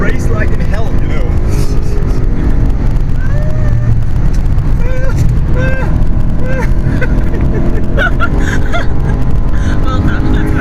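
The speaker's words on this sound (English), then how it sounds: "It's a Porsche GT2" A Porsche GT2 drives hard around the Nürburgring, its engine loud and close as the revs rise and fall through gear changes, with people talking throughout.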